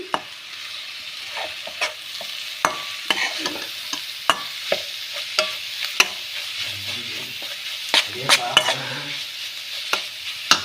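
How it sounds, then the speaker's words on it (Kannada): Grated radish is stirred in a pan while cooking, a spoon scraping and tossing with irregular clicks and knocks over a faint sizzle, close and fairly loud with no voices. "ತುರಿದಿಟ್ಟಿರೋ ಮೂಲಂಗಿನ ಇದಕ್ಕೆ ಸೇರಿಸ್ಕೊಳ್ಳಿ ಸೇರಿಸಿ ಚೆನ್ನಾಗಿ ಮಿಕ್ಸ್ ಮಾಡಿ"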